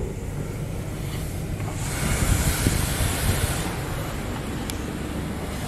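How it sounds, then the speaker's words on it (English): Pre-soak cleaner hissing from spray nozzles onto a car inside a Washworld Razor automatic car wash bay, a steady broad wash of spray that swells louder midway, then eases back. "A pre-soaked cleaning product is now being applied to your vehicle."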